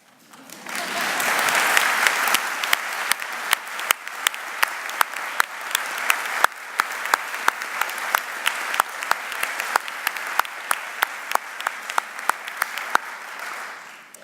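An audience applauds at a college presidential inauguration for Dr. Elizabeth MacLeod Walls. The sustained clapping swells up quickly, and sharp individual claps stand out through the steady wash until it tapers off.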